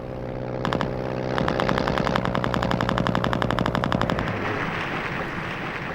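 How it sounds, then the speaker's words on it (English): Rapid anti-aircraft gunfire aimed at low-flying First World War bombers, a loud, dense rattle of bursts that hammers on for several seconds over a heavy droning background before cutting off and leaving the roar alone. "The bombers, flying low to drop their load, came under increasingly heavy anti-aircraft fire."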